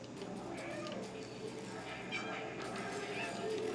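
A cat character meows in a video game, with short, rising and falling calls repeated several times under a person talking over the gameplay.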